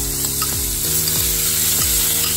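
Rib eye steak frying in a pan with a garlic clove in its skin, rosemary and butter, a steady close sizzle with a few soft clinks and scraping strokes, and no talking.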